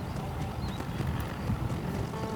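Horse hooves galloping in the video game Red Dead Redemption, rapid dense thudding steps running continuously under wind and outdoor ambience.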